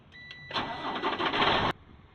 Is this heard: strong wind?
no